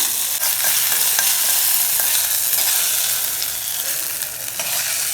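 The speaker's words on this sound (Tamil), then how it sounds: "சட்டியில் தாளிச்சு எடுத்து வச்சுக்குவோம்" Whole spices temper in hot oil in a pan for a coconut coriander chutney, giving a steady, close, bright sizzle and frying hiss throughout, with a few small crackles and no talking.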